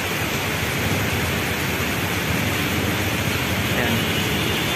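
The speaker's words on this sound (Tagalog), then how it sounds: "Malakas ang ulan." A sudden heavy afternoon downpour roars steadily and loudly outdoors, a thick unbroken wash of rain noise.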